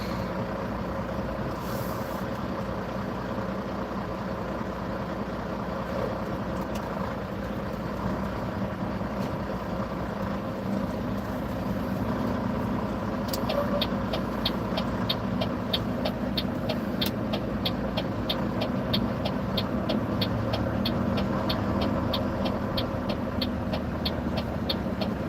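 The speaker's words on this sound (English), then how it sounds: "we're going to drive all the way across the Bronx right now because we have to get to the GW Bridge, or the George Washington Bridge, in this semi-truck." A semi-truck drives through Bronx traffic toward the George Washington Bridge, with a steady rumbling engine and road noise from inside the cab and a rapid ticking indicator partway through.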